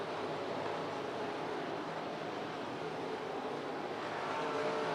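USRA B Mod race cars roar around a dirt oval in a steady, dense wash of engine noise, distant and continuous without distinct passes.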